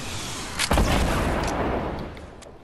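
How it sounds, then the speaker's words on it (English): In a video game, a rocket launcher explosion lands as a sudden heavy boom with a deep low-end thump, then a rumbling decay and a few faint crackles trailing off, with no voices over it. "Rocket launch him."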